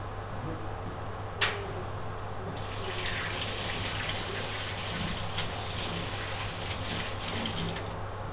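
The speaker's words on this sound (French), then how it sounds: "Je vais me laver les mains." Tap water runs steadily into a sink as hands are washed in a kitchen during pastry making, a constant close splashing rush with small patters and one brief clatter.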